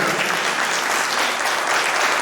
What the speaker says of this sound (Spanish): Vamos a darle un fuerte aplauso a nuestra madre.